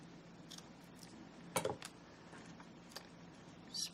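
Scissors snip paper ends on a small handmade matchbook-style notebook, a few faint, quick cuts spaced apart in a quiet room.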